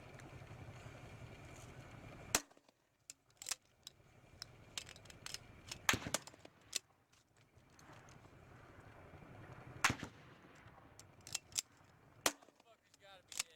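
Sharp, loud reports from an M203 40 mm grenade launcher, several separate shots spaced irregularly over an outdoor range, with faint voices between them.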